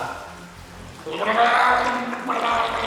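Wave machine at an indoor swimming pool starting up, a loud surge of churning, splashing water rising after a quieter start and continuing steadily, with people shouting nearby.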